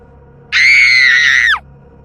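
A woman's high, piercing shriek of terror lasts about a second after a quiet start, loud and close, then cuts off sharply, used as a horror story effect.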